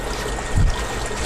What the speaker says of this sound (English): Turn the water back on